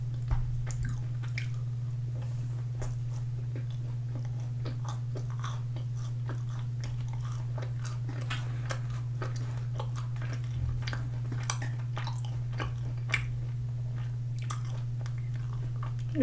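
Mexicana kimchi fried chicken is eaten close up, with soft crunches, bites and wet chewing sounds at an irregular pace over a constant low electrical hum.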